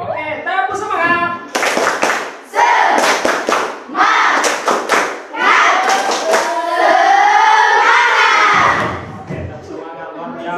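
An audience performs the tepuk semangat clapping routine: several quick bursts of rhythmic group claps mixed with crowd chanting, then a long sustained shout, with a leader's voice calling over them.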